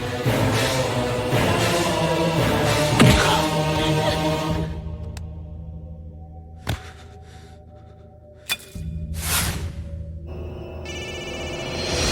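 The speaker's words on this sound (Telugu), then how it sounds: "ఫోన్ ఎత్తడేట్రా" An unanswered telephone rings in a scene from a Telugu action film, its tonal ringing rising over a music-like bed, then breaking into short bursts with sharp clicks and pauses before resuming.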